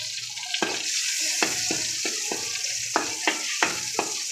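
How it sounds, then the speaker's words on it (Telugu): Two dried red chillies frying in hot oil for tempering, a steady sizzle with occasional sharp crackles and pops as they are stirred. "ఆయిల్ హీట్ ఎక్కాక 2 ఎండుమిరపకాయలని ఇలా అంచులు కొద్దిగా తూకి వేసేసుకుందాం. ఇది కొద్దిగా వేగనిద్దాం."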